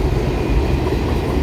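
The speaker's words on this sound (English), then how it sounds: "Train is picking up a lot of speed." A freight train passes at speed in low light, giving a steady, loud, close rumble and roar of rolling cars that holds unbroken throughout.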